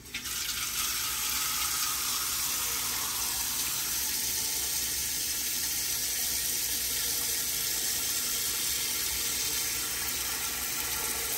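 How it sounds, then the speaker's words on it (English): Water runs from a kitchen sink tap into a pressure canner being filled for canning potatoes, a loud, constant rushing hiss that holds steady without talk. "my pressure canner book tells me to put 2 or 3 inches of water in here"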